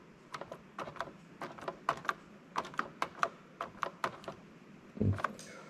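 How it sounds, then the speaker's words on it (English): Toyota Lexus LS400 air-conditioning relay clicking with the fan switched on: a string of sharp, evenly spaced clicks close by, about two per second, ending in one heavier thunk. "I'm going to keep quiet so you can hear the relay clicking"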